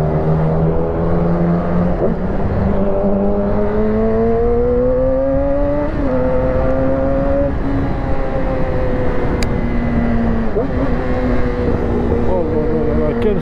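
A Yamaha R6 sport motorcycle engine revs and shifts through gears, pitch climbing then dropping with each change, loud and close, a rough roar throughout.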